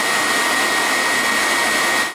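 A DreameTech T30 cordless stick vacuum runs with its cleaning head attached, giving a loud, steady high-pitched whoosh and motor whine that holds constant before cutting off abruptly at the end.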